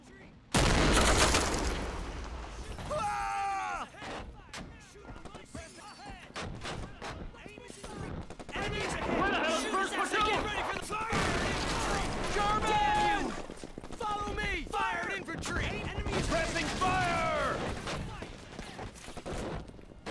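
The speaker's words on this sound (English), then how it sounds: "I'm just going to hit these guys with a mortar." Mortar shells fired at enemy soldiers in the World War II strategy game Men of War, heard as a heavy boom and repeated blasts amid ongoing battle noise, with someone talking over much of it.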